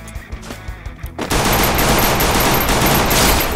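Sustained automatic gunfire in the mobile battle-royale game Free Fire, a few sparse shots first, then a loud continuous burst of rapid fire filling the rest of the moment.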